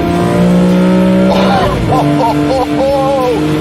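A BMW M3 CSL at speed on Isle of Man roads: loud, close engine roar with tonal revving that climbs, drops and rises again through gear changes.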